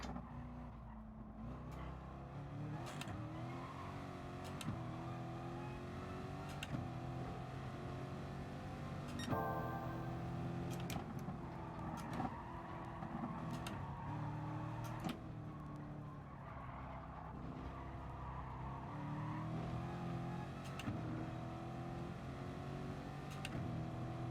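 A Mercedes-AMG race car in the Gran Turismo Sport video game, lapping the Nordschleife with a loud, steady engine drone that rises and falls through gear shifts, with brief tire squeal along the way.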